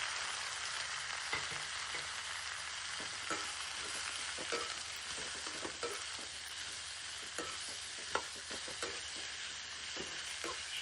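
Fish, taro and pumpkin fry with turmeric in a pan, giving a continuous hissing sizzle dotted with faint clicks and scrapes of stirring, quiet and steady throughout.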